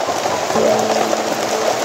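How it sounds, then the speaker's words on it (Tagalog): Rain falling steadily in a short burst, a soft, even hiss of drops spread across the sound with no talking over it. "huminto itong ulan na ito"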